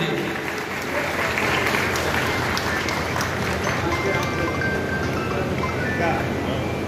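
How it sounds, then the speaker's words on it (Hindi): Loud, sustained applause from a large crowd at a public government event in Bihar, greeting a state minister honouring someone on stage; steady, dense clapping fills the whole stretch with faint voices mixed in. "एक बार जोरदार तालियों से स्वागत कीजिए।"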